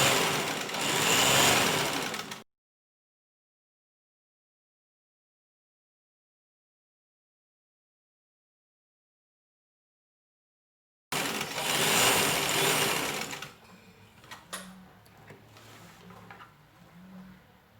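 A sewing machine stitches a seam along the edge of a fabric placemat in two short, close, whirring bursts separated by a long stretch of silence, followed by quieter rustling and handling sounds.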